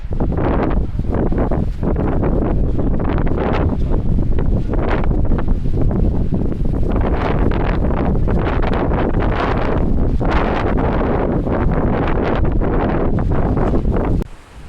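Strong sea wind blows hard against the microphone on a trip to Gdańsk, a loud continuous roaring buffet with no let-up until it cuts off at the very end.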